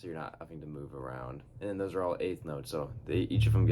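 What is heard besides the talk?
No everyday noise stands out behind the speech.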